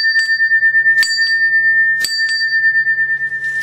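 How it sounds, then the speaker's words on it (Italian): A small bell is rung outdoors on a leafy lane in Coatesa sul Lario to announce arrival to the cats, a few clear bright rings at about one-second intervals over a steady high tone. "Questo è il campanello con cui segniamo il nostro arrivo ai gatti"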